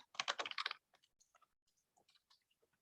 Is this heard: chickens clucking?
no